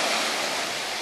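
Sea waves wash onto a sandy shore in a steady, broadband rushing surge that fills the moment without a break, close and loud, with no voices.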